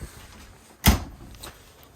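A refrigerator drawer inside a Zinger 290kb camper is pulled and pushed, giving one sharp, close sliding thud followed by a softer knock, with quiet room tone around it.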